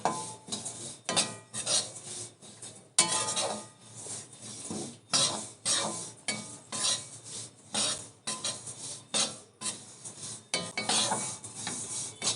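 Sesame seeds dry-roast in a pan as they are stirred constantly, making repeated rhythmic rasping scrapes and swishes in uneven bursts, close and fairly loud with no talking.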